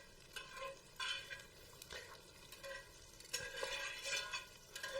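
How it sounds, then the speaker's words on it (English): A whisk stirs butter as it begins to melt in a pan for a roux, giving soft, steady scraping and faint sizzling strokes with occasional metallic taps against the pan, quiet and close, with no talking. "With my whisk, we'll just get it started melting."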